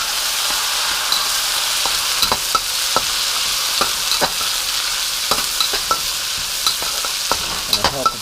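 Kung Pao chicken with green onions stir-fries in hot oil, a steady sizzle under scattered spatula clinks and scrapes against the wok, close up with no talking.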